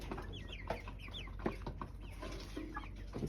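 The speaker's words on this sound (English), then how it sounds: "Let me show you other chicken." Chickens on a farm cluck in short, overlapping bursts, faint and close by, against a quiet background with no talking.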